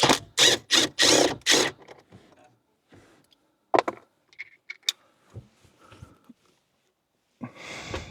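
Screws are backed out of the head unit trim panel in a fifth-generation Toyota 4Runner, with a burst of close metallic clicks and rattles up front, then scattered small ticks and taps, and a short rustle at the end.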